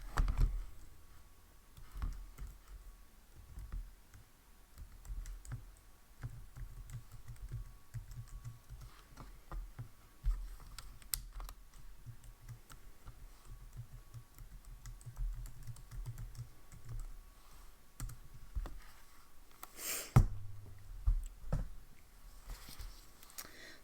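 Fingers type on a computer keyboard for about twenty seconds, a quick, uneven patter of close, quiet key clicks with short pauses and a few louder taps near the end.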